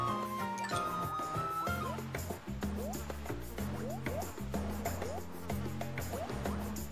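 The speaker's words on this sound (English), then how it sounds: "So many bees." Game audio from Kirby's Epic Yarn with a busy, bouncy musical backdrop and repeated short chirpy sound effects, where the bee buzzing blends into the steady in-game soundtrack throughout.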